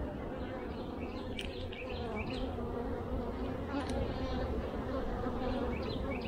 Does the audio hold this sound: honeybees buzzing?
yes